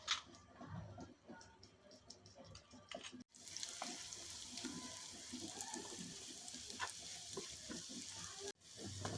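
Garlic chutney paste frying in oil makes a faint, continuous sizzle with soft stirring scrapes and irregular little pops, recorded close but quiet.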